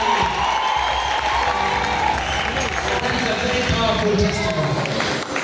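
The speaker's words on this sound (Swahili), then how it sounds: "Tupige makofi kwanza jamani." A church congregation claps in a continuous burst of applause that lasts throughout, dense and fairly loud, with voices and crowd murmur mixed in.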